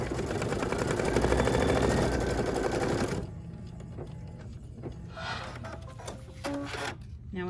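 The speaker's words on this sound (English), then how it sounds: "I'm gonna put the hoop back on the machine and stitch the placement stitch" An embroidery machine stitches a placement line for a small bird's wing on a hooped mini pillow: a loud, fast, even mechanical chatter for about three seconds, then it drops to quieter intermittent whirring and clicks.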